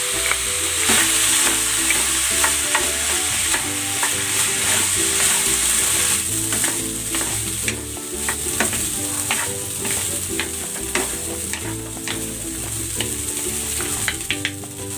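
Fried rice seasoned with soy sauce and oyster sauce sizzles loudly in a hot pan. A constant crackling fry runs throughout, with scraping and clinking of a utensil stirring and tossing the rice.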